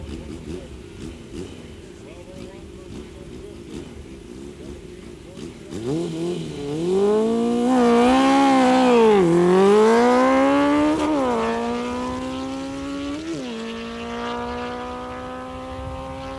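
A drag racing car at a 1994 strip event launches after a low idling rumble, its engine note climbing loud and strong as it accelerates hard down the track, then easing off into a steady roar.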